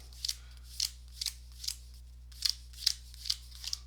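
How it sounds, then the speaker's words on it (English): A series of crisp, quick riffling bursts of playing cards being shuffled, about nine short flutters in an irregular rhythm, close and clear. "I'll just give them a quick shuffle for the fourth."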